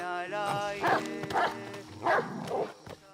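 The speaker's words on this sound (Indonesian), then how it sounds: "tiba-tiba anjing milik Goria Mandi menggonggong" A dog gives several drawn-out, yowling barks in a loose rhythm, fairly close, over a faint steady background hum.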